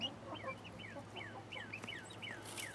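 Baby chicks peep in a quiet series of thin, high, downward-sliding chirps repeating every fraction of a second, faint and fairly close, with no talking.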